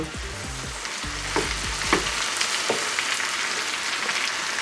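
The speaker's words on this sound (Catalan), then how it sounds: "Aixafem bé, barregem." Potatoes being mashed and stirred in a frying pan with oil for a potato tortilla, a soft sizzle running throughout with a few scraping knocks from the utensil, close and without talk.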